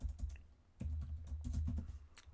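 Keys clatter in scattered short bursts on a computer keyboard as a title is entered while setting up a macro, close by over a steady low hum.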